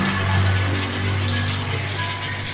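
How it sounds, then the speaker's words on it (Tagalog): Water pours steadily into a cooking pot for seafood soup, a loud, close, continuous splashing gush with a low resonant hum that holds throughout. "Yun ang tubig para maluto."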